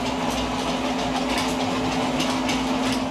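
A North Pole Junction toy Christmas train runs on its track laid over a hardwood floor, giving a steady, close motor whir with a constant hum and light rattling clatter throughout, with no pauses.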